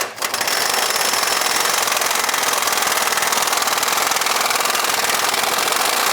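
Loud, unbroken rattling hammer of a power tool backing out the side bolt on the rear engine mount of a 2001-2005 Honda Civic, running steadily for several seconds with no talking.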